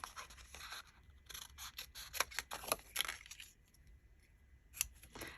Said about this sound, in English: I'm going to just cut this without really thinking about it